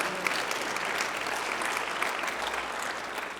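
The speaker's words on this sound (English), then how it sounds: "If we're going to clap, let's clap." Applause from a church audience, a steady dense patter of many hands clapping throughout, fairly even in level, with no talk over it.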